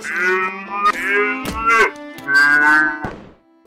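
A cow in the video game Eternal Reckoning gives a loud, drawn-out moo in two long, bellowing calls with a short break between them, close and clear.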